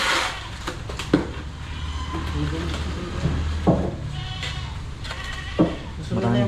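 A goat bleats a few times between stretches of conversation, its calls fairly close and mixed in with people talking at a furniture shop.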